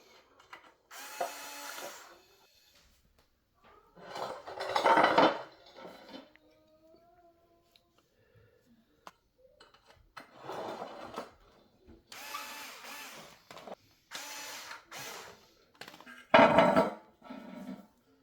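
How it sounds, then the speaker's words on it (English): Intermittent bursts of short mechanical whirring and clicking, like a handheld driver fastening handles onto a griddle, separated by quiet pauses and small handling noises. "Installing the handles is very simple."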